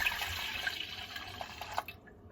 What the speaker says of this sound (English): you're gonna take your cup of cold milk and you're going to pour it